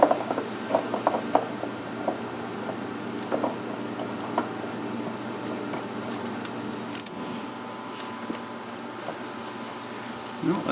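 An oil filter is screwed back by hand onto a Scag mower, giving scattered small clicks, taps and scrapes of metal, close and quiet, over a faint steady background hum.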